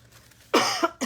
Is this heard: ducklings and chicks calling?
no